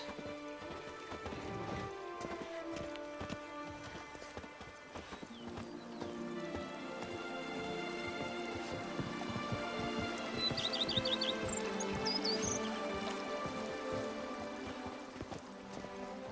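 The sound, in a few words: horse galloping in a video game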